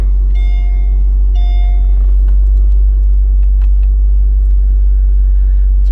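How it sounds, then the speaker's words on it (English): A custom Mercedes-Benz SL55 AMG engine runs loud and close with a heavy, steady low rumble, and a few brief electronic chime tones sound early on. "The car roars to life there."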